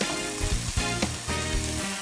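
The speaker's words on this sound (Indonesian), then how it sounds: "Kemudian kita hempaskan kikil yang sudah direbus dengan jahe dan daun salam." Boiled beef skin seasoned with ginger and bay leaves is tossed into a hot pan and stir-fried, giving a loud close sizzle with scraping stirs and brief clatters of the utensil.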